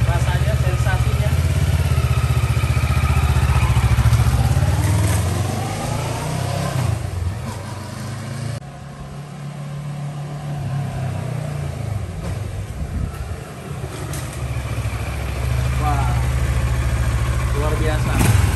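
A Kawasaki ER-6f sport-touring motorcycle's two-cylinder 650 cc engine rumbles and revs steadily, a deep low throb that eases off midway then builds again, with a voice talking over it.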